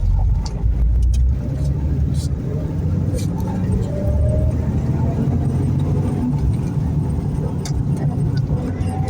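A manual-transmission car with a suspected bad slave cylinder and transmission bearing drives in second gear, its engine a steady low rumble heard from inside the cabin while someone speaks over it throughout.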